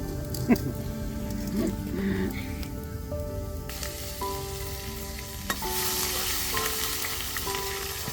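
Brinjal olo curry with dry onion fries in a pan at an outdoor campsite, giving a steady close sizzle and stirring with a few clanks, while voices murmur in the background.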